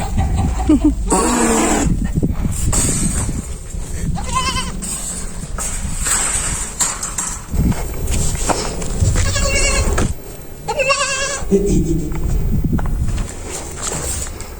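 Several goats bleat repeatedly and loudly at close range over a steady outdoor background in Petra, Jordan, their wavering calls overlapping at irregular intervals.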